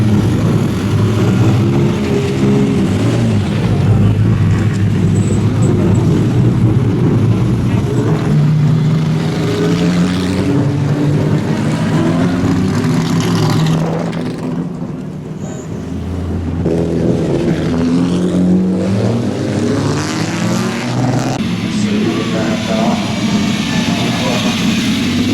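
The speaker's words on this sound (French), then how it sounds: "on va assister au début de la course Kinrara Trophy" Race cars at the start of the Goodwood Revival Kinrara Trophy race, a dense roar of many engines revving and passing nearby, continuous and loud, with people talking over it.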